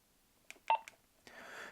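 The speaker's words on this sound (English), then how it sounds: "And now when you transmit, you've got the DTMF so that you know that it's working and you can hear that." Short bursts of DTMF tones from a Wouxun KG-Q10H quad-band handheld radio on transmit, a few quick beeps followed by a brief hiss of noise, faint and close, with no talk.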